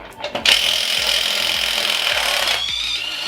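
A cheap Supercheap electric impact drill hammers a 200 Newton-metre balancer bolt loose on a turbo Pajero engine, giving a loud, continuous rattling whir with rapid regular impacts after a few brief starting bursts.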